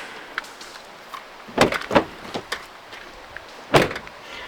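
A car door opened at a state park, giving a few sharp mechanical clunks and latch clicks in quick succession, then one more loud thud near the end, close by over a low background hum.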